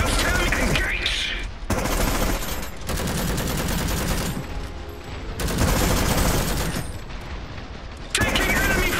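Heavy gunfire and machine-gun bursts fill an Iron Harvest video game battle, loud and continuous with brief gaps and booming impacts, while in-game voice callouts sound over the fighting.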